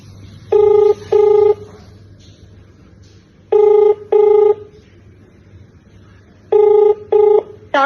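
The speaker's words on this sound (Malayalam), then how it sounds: "ഞാൻ അവിടെ തന്നെ ലാൻഡ് ഫോൺ നമ്പറിലൊന്ന് വിളിച്ചു നോക്കാം." A landline telephone call: short bursts of a ringback tone come in pairs, three times over about eight seconds, with quiet gaps between them and a steady low hum underneath.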